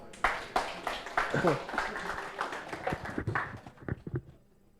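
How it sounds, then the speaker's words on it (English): Audience applause at the GeekcampSG 2022 tech conference after a talk, a dense burst of clapping lasting a few seconds, mixed with talking voices, then fading out. "Can we give another round of applause?"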